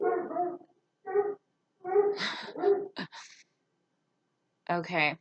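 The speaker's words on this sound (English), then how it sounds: "I apologize if you can hear my dog barking in the background." A pet dog barks and whimpers in short, irregular bursts close by indoors, alternating with brief pauses, while a person speaks briefly.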